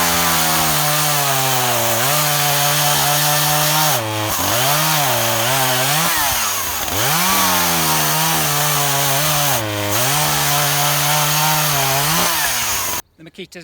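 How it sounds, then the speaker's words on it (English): A Makita DCS340 chainsaw cuts through a six-inch firewood log, its engine droning loud and close under heavy load, the pitch sagging and recovering several times before the saw cuts off abruptly near the end. "The Makita's using every bit of its power there to cut that sort of diameter firewood."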